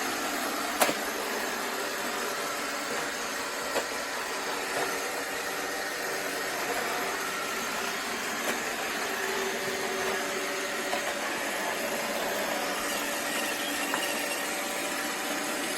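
An iRobot Roomba 690 robot vacuum hums steadily at close range, a constant broadband whir with faint clicks and bumps as it works along the floor, no voices present.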